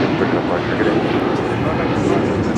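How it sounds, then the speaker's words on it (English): British Airways airliner departing LAX for London, a loud, dense jet engine roar filling the moment without letup, close and powerful. "That is British Airways Flight 28 Foxtrot heading back to London"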